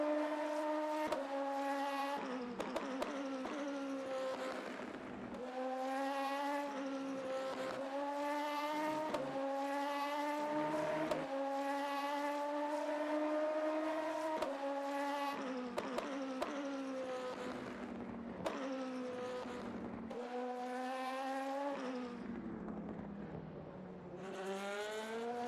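An LMP2 prototype race car in the video game Le Mans Ultimate at Paul Ricard revs hard through repeated gear changes, its engine pitch climbing and dropping in a steady cycle of acceleration, with brief tire squeal, loud and continuous throughout.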